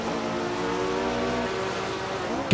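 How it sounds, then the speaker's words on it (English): Ferrari 330 racing car engine in the Assetto Corsa sim at Riverside, a loud sustained high-revving howl held steady from start to finish with no voices. "God, that Ferrari sounds good."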